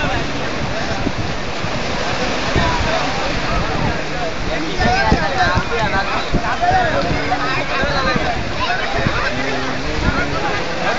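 Ocean waves at Kanyakumari beach roll in with a steady, broad surf roar and gusty wind noise that runs continuously, while voices talk faintly in the background.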